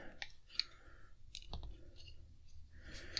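An Ozark Trail multi-tool blade being folded shut gives a few faint, sharp clicks and small metallic taps, close and quiet with no talk.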